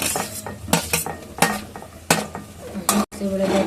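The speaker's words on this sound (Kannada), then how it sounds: "ಈಗ ಟೊಮೊಟೊ ಹಾಕ್ತಾ ಇದ್ದೀನಿ" Chopped tomatoes go into frying onions in a pan, with several loud, irregular metal clanks of a spoon against the pan over a soft sizzle.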